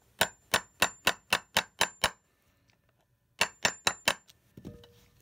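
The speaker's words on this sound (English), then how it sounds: "And then you're gonna hammer it down." In a drum studio, sharp metallic hammer blows ring out in a quick, even series of eight, a pause, then four more strikes followed by a softer clatter.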